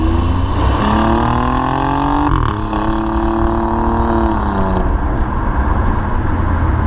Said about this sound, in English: downshift a couple times, and fire off some really quick shifts.